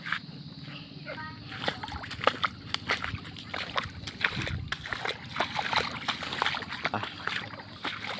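Repeated splashes and sloshing water as someone wades through deep floodwater after a landslide in Masinloc, Zambales, with people talking in Tagalog over the splashing.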